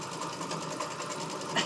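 A green sewing machine runs at a steady, fast, even whir throughout, close and moderately loud, ending with a short louder burst.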